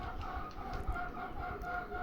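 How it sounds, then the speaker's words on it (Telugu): A hen clucks loudly and close by before laying an egg, a steady run of repeated throaty calls with no pause across the whole stretch. "మా కోడి గుడ్డు పెట్టడానికి వచ్చింది దాని కప్పు పెట్టాను ఒకటే మాత్ చేస్తుంది పక్కన కూర్చొని అది"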